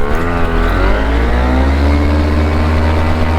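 A paramotor engine runs at full takeoff power with a loud, steady, close roar and a strong droning whine that holds throughout.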